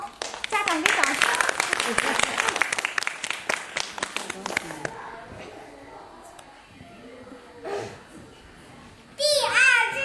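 Parents clap for children after a singing activity, a burst of rapid, dense applause that dies away after a few seconds, with children's voices heard in the background.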